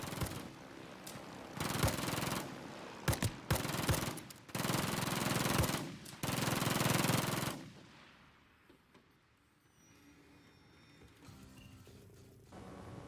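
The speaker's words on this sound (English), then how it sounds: "The sentry guns will kill most of the bots, but you will want to help them out to maximize the amount of XP you get." Sentry guns firing at bots in Modern Warfare 2, dense bursts of rapid gunfire for several seconds, loud and close, before dropping to quieter game ambience with scattered faint shots.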